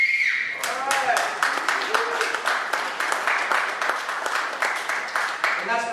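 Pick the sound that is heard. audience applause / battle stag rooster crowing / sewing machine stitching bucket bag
audience applause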